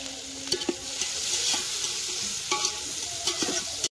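Chicken frying in oil in a home village kitchen, being stirred in the pan: a steady, close hiss of sizzling with repeated scraping clinks of a ladle against the metal, no voices.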